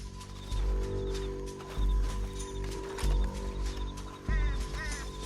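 Horse hooves clop in rhythmic bursts in the Red Dead Redemption 2 video game, thudding close and low over a steady in-game hum, with a few other game sounds layered on top.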